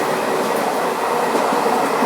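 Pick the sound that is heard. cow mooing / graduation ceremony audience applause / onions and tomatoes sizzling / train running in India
train running in India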